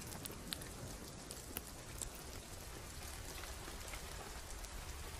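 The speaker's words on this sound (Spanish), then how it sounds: "Empezó a llover." Steady rain falling, a dense continuous patter with occasional louder drops, no voices.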